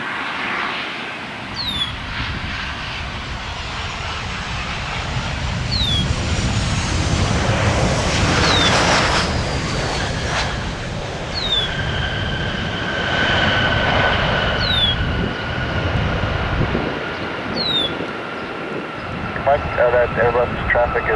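A Southwest Airlines jet arriving at Cleveland airport from Baltimore BWI makes a sustained, swelling engine roar with a whining tone and faint chirps, heard at a distance under a person talking.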